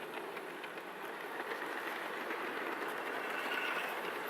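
A steady, continuous rumble and whir of a small HO scale model train running, with faint clicking from the track, even and unbroken throughout.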